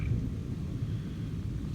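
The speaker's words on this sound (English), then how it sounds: "I hear the thunder's pretty" A low, distant rumble of thunder rolls steadily through the whole stretch, soft and deep, with no voices.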